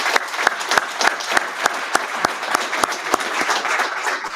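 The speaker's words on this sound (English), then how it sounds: "Let's give everyone a round of applause." Audience applause at a 2024 water-industry awards ceremony: steady, dense clapping from a sizeable crowd with regular sharp peaks, sustained evenly at moderate loudness throughout with no talk over it.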